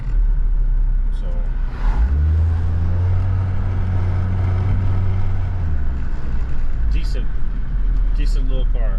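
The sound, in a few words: 2010 Ford Focus driving on road after strut install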